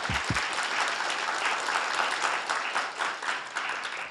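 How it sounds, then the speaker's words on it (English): Forum audience gives sustained, dense applause for two speakers on rule of law, a loud, even roar of many hands with a couple of low thumps at the start. "let's give them a big applause."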